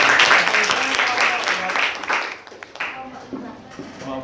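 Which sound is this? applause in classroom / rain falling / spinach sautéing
applause in classroom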